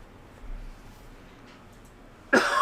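A single close, sharp cough from a teacher during a class bursts out abruptly after a stretch of quiet room tone.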